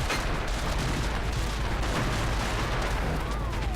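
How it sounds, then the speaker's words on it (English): Retro City Rampage on Xbox 360: a tank's cannon booms repeatedly in a dense, continuous barrage of low, rumbling blasts, with no gaps between shots. "Now I got a tank."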